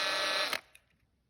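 A drill bit boring out the rivet on a Hot Wheels die-cast car, a close, high, harmonic whine that holds for about half a second, then cuts off with a sharp click and a short faint tail.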